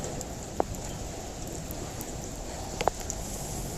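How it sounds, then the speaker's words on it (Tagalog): Heavy rain pours in a dense, steady hiss close by, with a couple of sharp drips or taps standing out. "Sana wag tumigil yung ulan. Grabe, lakas ang ulan"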